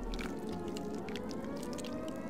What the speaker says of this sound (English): they even have the siren.